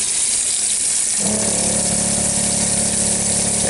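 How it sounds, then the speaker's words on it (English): A small electric water pump for a camper van sink in a Mercedes Sprinter conversion kicks on after about a second, settling into a steady, close, droning hum with running water over a constant background hiss. "And pump works."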